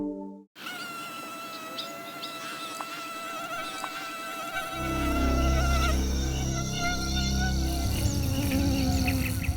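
A mosquito buzzes in a sustained, high, whining drone close to the ear, its tone wavering slightly. A deeper, louder hum joins halfway through and continues alongside it, with no speech.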